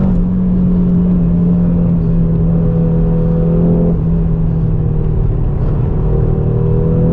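An Audi RS3 on ceramic brakes and Trofeo R tires powers out of a corner at the Sachsenring on a track day, a loud sustained in-car engine drone with steady rumble and a slight pitch shift midway.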